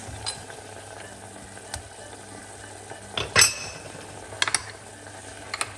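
Butter goes into a pan for a beurre blanc sauce, bringing a few clinks and scrapes of a utensil against metal over a low kitchen hum, with one louder clatter midway.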